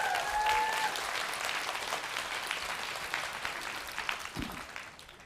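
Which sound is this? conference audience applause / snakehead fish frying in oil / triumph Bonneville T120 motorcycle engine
conference audience applause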